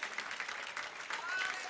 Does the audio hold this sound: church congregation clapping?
yes